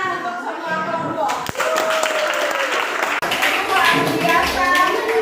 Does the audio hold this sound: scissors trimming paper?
no